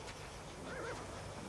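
Horse neighing faintly in a Western setting, a single brief whinny rising out of a dense, noisy background.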